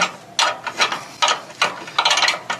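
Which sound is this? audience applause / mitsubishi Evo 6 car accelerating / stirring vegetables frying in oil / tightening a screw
tightening a screw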